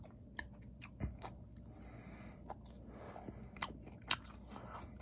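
Sausage pancakes being eaten up close: soft bites and wet chewing with occasional crisp crunches, quiet and intimate, no talking.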